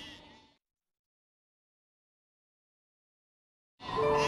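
Sheep bleat in a stable: one bleat fades out, then after about three seconds of silence a second loud, close bleat begins.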